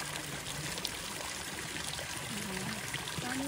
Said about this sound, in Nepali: यो बुटाबाट पानी आइरहेको छ।